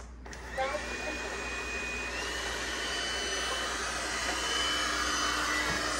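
Several robot vacuums, including an iRobot Roomba i3 Plus, Eufy G30, Shark Ion 750 and Roomba 690, whir together in a steady, close, continuous drone with a high-pitched tonal whine, running without interruption.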